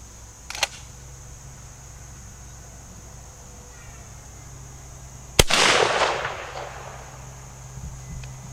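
A Stoeger 3020 20-gauge shotgun fires a Boss 3.5 duplex load through a Carlson's Cremator long-range choke at 30 yards: one sharp, loud blast with a trailing roar, preceded by a faint click, no talk.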